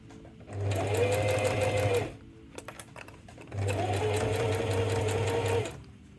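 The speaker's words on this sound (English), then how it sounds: "It helps to hold it as you sew down towards it." A sewing machine stitching a thick fabric seam on a plant pot holder runs in two steady bursts of rapid mechanical whirring, close and loud, with a short quiet pause between them.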